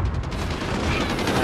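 Enemy machine gun fire in the Modern Warfare campaign, a dense, continuous rattle of rapid shots filling the short stretch at steady loudness.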